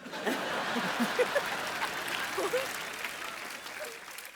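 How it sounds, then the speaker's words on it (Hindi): Audience applause rolls through a Hindi stand-up comedy show, a steady mid-level patter of clapping mixed with scattered chuckles and voices. "ओए तालियां भी"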